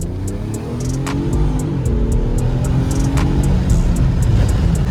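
A BMW M5 idles and burbles loudly up close at a car meet, a deep steady engine rumble with a low throbbing exhaust note running the whole time, accompanied by a faint rhythmic ticking.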